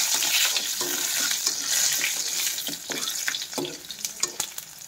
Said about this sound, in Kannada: ಎಣ್ಣೆ ಕಾಯ್ದಾದಮೇಲೆ ನಾನು ಒಂದು ಗೆಡ್ಡೆ ಬೆಳ್ಳುಳ್ಳಿ, ಒಂದು ಶುಂಠಿ ಹಾಕೋತಾ ಇದ್ದೀನಿ